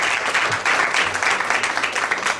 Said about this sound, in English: If everyone could give them another round of applause.